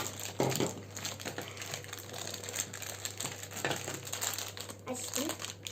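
A Play-Doh toy package is opened by hand, with close crinkling and crackling of plastic wrapping and light rattles while a child-oriented voice talks over it in Turkish.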